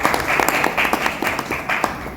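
An audience at a talk at a learning forum breaks into a burst of steady clapping, with loud, dense applause filling the hall.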